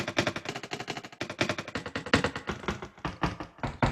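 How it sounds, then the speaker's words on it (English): A short knock sample plays rapidly across different keyboard pitches in GarageBand, producing a dense, rhythmic run of sharp percussive hits that sound funky and mechanical. "by clicking on the keyboard, I can get the knock play with different pitch"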